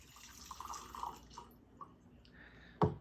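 Preheating water is tipped out of a coffee brewer, giving a faint trickle and a few scattered drips, then a sharper splash or knock near the end.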